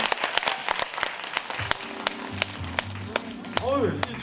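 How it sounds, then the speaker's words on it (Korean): An audience claps at a mentoring talk concert, with sharp, scattered hand claps and a voice speaking over them. "격려의 박수, 감사의 박수 부탁드립니다"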